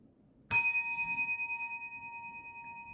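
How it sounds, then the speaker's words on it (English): A single bell struck once, a bright ding that rings out with a long, slowly fading shimmer, alone in a quiet room. "It actually rang the bell."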